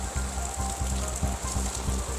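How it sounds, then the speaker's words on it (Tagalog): Heavy rain pouring at night in a cemetery in Baguio City, a dense steady drumming on surfaces with a rhythmic pattering beat, close and continuous. "Pero lakas ng ulan, grabe, ang lakas, sobra."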